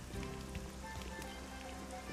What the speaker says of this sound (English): No, it's still raining